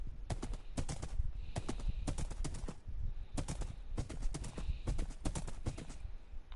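A ridden horse in Minecraft Bedrock on PS4 clip-clops in steady, rhythmic bursts of hoof steps, loud and close, with no talk over them.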